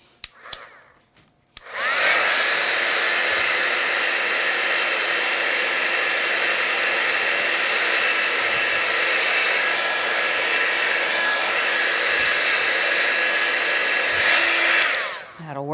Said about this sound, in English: And I'm going to dry it with a heat tool.